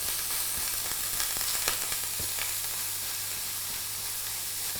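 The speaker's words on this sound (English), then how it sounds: "We're just going to put this straight in. It should sizzle." Minced meat for a cottage pie sizzles in a hot pan with a continuous hiss and crackle, with no talking over it.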